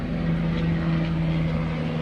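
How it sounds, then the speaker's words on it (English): A helicopter passes overhead at a roofing-shingle loading yard, a steady droning rotor hum with a low throb, continuous and fairly close throughout the short stretch, with no talk. "Got a helicopter going overhead."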